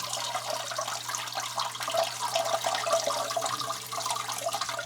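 Water rushes steadily through a toilet fill valve after the supply is turned on, a continuous hissing flow heard alone at moderate level.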